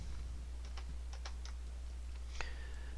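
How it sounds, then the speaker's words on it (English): Computer keyboard typing during 3D body modeling work, with the Alt and arrow keys pressed: a handful of sharp, separate key clicks spaced unevenly, and one louder key press near the end, over a steady low hum. "I'm holding down the Alt key and the arrow keys to kind of get that looking pretty good"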